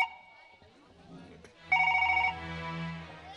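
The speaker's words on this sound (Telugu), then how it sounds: "స్వాతికి ఫోన్ చేస్తాను." A telephone rings on a call, a clear electronic ring tone near the mic that starts partway through, after murmured voices and background chatter at the beginning.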